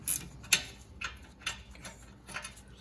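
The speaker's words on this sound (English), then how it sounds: "If you got limited space, the gear wrench is really nice for getting in there." A gear wrench ratchets out a car brake bolt, giving a few sharp metallic clicks spaced about half a second apart, close but fairly quiet with nothing else heard.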